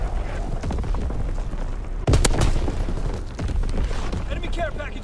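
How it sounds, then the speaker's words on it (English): Artillery shells burst in a World War II video game, a heavy boom landing midway and rumbling on among game noise and chatter, with a voice talking throughout. "Incoming enemy artillery! Get to cover!"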